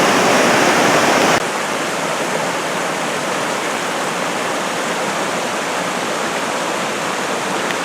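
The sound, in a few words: creek water flowing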